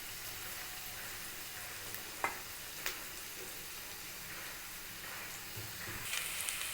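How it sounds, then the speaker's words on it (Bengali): Onions frying in oil in a pan give a soft continuous sizzle and crackle, with a couple of sharp clinks from stirring and the frying swelling slightly toward the end. "পেঁয়াজ ভাজা হয়ে গেছে"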